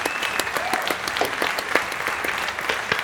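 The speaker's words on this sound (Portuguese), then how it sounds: "palmas!" Studio audience applause greets a guest on a Brazilian podcast show, a steady dense wash of clapping lasting about three seconds at moderate level with no talk over it.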